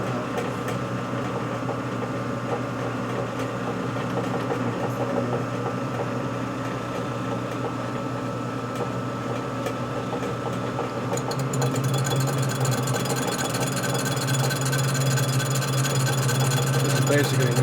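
A boring machine cutting the cylinder bore of a 1989 FXR S&S stroker Evo engine, a steady, close mechanical hum with a whining tone that grows slightly louder toward the end, with a voice in places.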